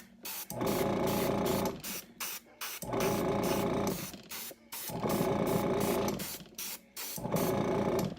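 Bursts of spray hiss on and off in a steady rhythm, several long sprays separated by short pauses, close and fairly loud.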